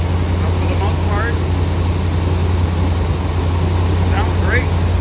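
A 1976 Corvette engine idles a little high with a steady low rumble and even pulsing throb, running continuously at close range.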